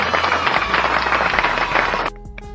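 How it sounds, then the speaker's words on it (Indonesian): Students applaud their classmates' group performances in a classroom. A dense, steady burst of clapping lasts about two seconds, then stops abruptly. "kasih tepuk tangan dulu untuk semua kelompok yang sudah tampil hari ini"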